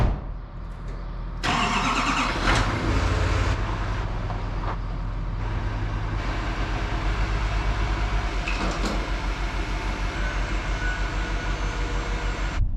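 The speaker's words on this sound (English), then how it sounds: "I'm going to back this fuel trailer in here." A truck engine starts and then runs steadily at close range while backing up a fuel trailer, rumbling at a constant idle with occasional clanks and knocks.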